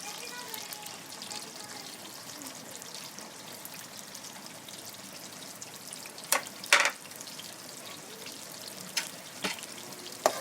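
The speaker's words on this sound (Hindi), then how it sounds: "यहाँ को प्याज को लाइटली हम ब्राउन कर लेंगे।" Onions frying in a pan for an arvi masala, a steady soft sizzle with a few sharper crackles and stirring clinks near the middle.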